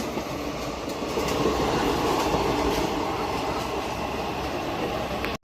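Humsafar Express train pulling out of Yelamanchili station and running at speed, with a steady loud rumble and rattle of wheels on track throughout, briefly cut off at the very end.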